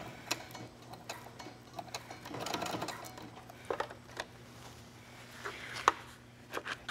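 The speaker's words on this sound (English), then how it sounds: "all we're doing is just sewing in a little square formation around this piece of hook and loop tape" A sewing machine stitches a small square around a strip of hook and loop tape on a cosplay bracer, its quiet mechanical ticking and short whirring bursts spread across a faint, low-level clip with no talking.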